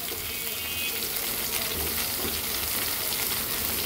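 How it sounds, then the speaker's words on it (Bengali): Bottle gourd pieces sautéing in a pan with green peas and green chilies nearby, giving a steady, close sizzle and frying hiss that runs without pause, no talking. "লাউ থেকে যে জলটা বের হবে সেই জল দিয়েই কিন্তু আমি সবজিটাকে কষাবো।"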